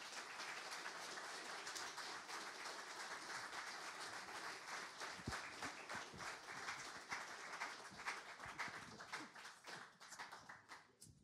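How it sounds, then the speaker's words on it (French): An audience at a talk on unexplained phenomena breaks into sustained applause to welcome a speaker, a dense, even wash of many hands clapping throughout, with a few closer claps popping out, recorded quietly. "Dominique Youngblood, sous vos applaudissements."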